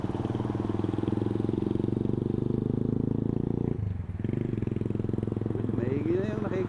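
A chemical tanker's engine idles with a steady low rumbling drone, broken by a brief dip near the middle, and a voice speaks over it toward the end.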